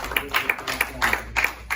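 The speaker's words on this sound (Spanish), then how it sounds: "Dele un fuerte aplauso al Señor" Rhythmic clapping from a congregation during a Spanish-language church service in praise to the Lord, steady, moderately loud beats repeating for under two seconds, with faint voices in the background.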